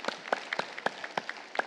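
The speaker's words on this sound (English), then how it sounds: "we can clap" A small audience clapping, a sparse and light burst of about a dozen claps from a few people, fairly close and without voices.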